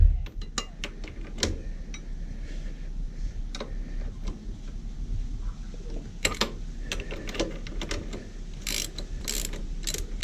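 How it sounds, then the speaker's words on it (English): A ratchet loosens the bottom bolt of a rear suspension leg on a Moto Guzzi V7 motorcycle, giving close, crisp clicking in quick bursts with brief pauses, ending in a fast run of clicks. "Now I'm going to completely undo the bottom of this suspension leg."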